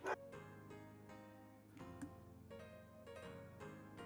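A dog barks and yips in short repeated bursts, fairly close, with faint background noise and no talk, heard indoors during a gaming tournament stream.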